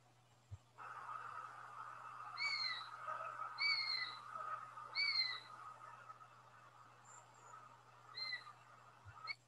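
Bird of prey in Shropshire giving a thin, high-pitched, peevish call, about four repeated downslurred notes close by over a steady low hum, with no talk.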